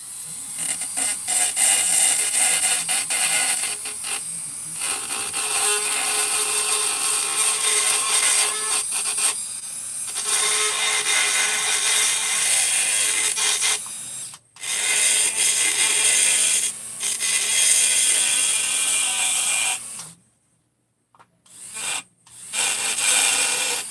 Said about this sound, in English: Just to kind of bevel it a little bit.